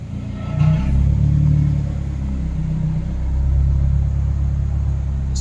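A 2001–2005 Honda Civic with a D17A engine idles with a deep, steady rumble that swells as the AC compressor engages, then settles into an even drone with no talking.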